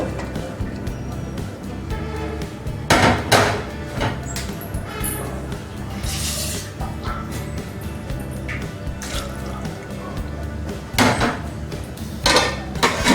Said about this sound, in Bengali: এবার আমি পাত্রের মধ্যে মেরিনেট করা মাংসটা দিয়ে দিচ্ছি